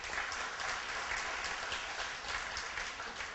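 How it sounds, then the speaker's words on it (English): A crowd claps at a political speech, a dense, even wash of applause that holds for several seconds with no voice on top. "clap for that"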